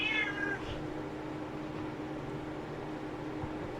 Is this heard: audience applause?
no